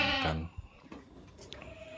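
An aged goat, likely a Boer goat on a livestock farm, lets out a single loud, close bleat at the start, followed by faint background sounds.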